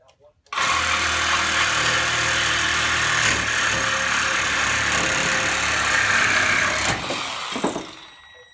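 A Ridgid reciprocating saw with a double-duty Sawzall blade, orbital action switched off, cuts steadily for about six seconds with a loud, even buzzing drone, then stops abruptly and winds down.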